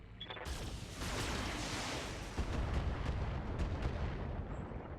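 Heavy mech weapons fire a sustained barrage at a sniper in a video game, a loud, dense roar of booming shots with no voices.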